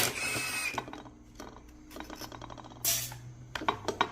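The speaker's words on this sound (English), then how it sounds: "So I'm going to take all these bolts out" A ratchet wrench backing bolts out of a Chevrolet oil pump during a rebuild, heard as several quick bursts of close mechanical clicking separated by short pauses, with a few metallic knocks.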